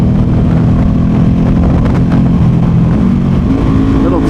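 A Ducati Panigale V2 sport motorcycle with upgrades runs through a short tunnel, its engine a loud, steady low drone with a slight pitch rise near the end, enclosed and reverberant with wind noise throughout.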